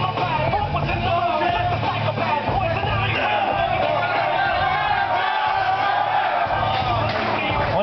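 A crowd at a live performance cheers, whoops and yells continuously for about eight seconds, loud and close, with voices shouting over the noise.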